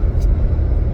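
Inside a moving car, a steady low road rumble and engine drone fill a brief moment without speech.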